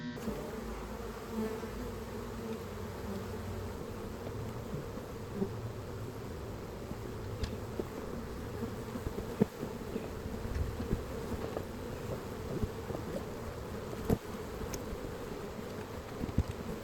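Honey bees buzz around an open beehive in a continuous, fairly faint drone that holds steady throughout, with a few small knocks and clicks from handling the hive.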